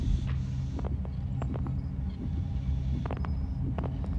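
A slow, muffled heartbeat throbs low beneath a droning ambient hum in Little Nightmares, soft thuds repeating at steady intervals with faint scattered clicks, no voices.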